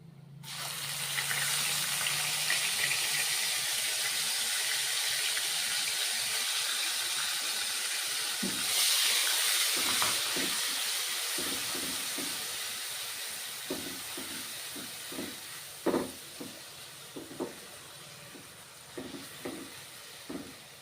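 Onion puree hits hot oil in a pan used for frying methi muthiya, bursting into a loud, steady sizzling hiss that flares again partway through. It then fades into scattered spits and crackles.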